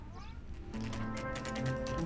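A cat in the video game LA Noire gives a single short, rising-falling meow, followed by tonal game music and background sound.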